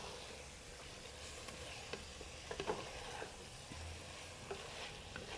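A curry base fries and is stirred in a pan, giving a faint, steady sizzle with light scraping taps and clinks, and no talk.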